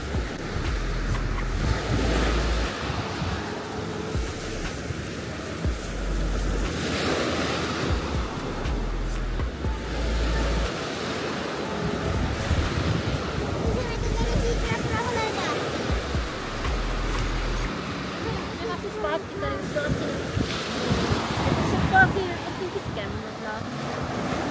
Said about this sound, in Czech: teď už si užijte se mnou chviličku u moře